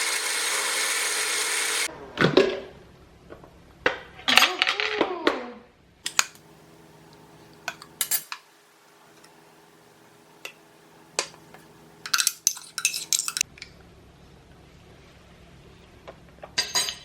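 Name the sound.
ice being added to a banana smoothie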